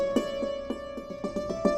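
A sampled dulcimer from the Labs instrument library sounds a rapid run of light struck notes over a sustained tone, soft and brief.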